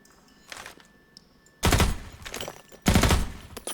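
Two loud bursts of automatic gunfire from a weapon in Half-Life 2, each lasting about a second, preceded by quieter game sounds and small clicks.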